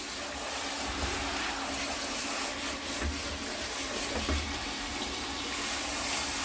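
Running water from a tap or sprayer rinses a dog during a bath, a steady close splashing rush with occasional rubbing and low thumps, no voices.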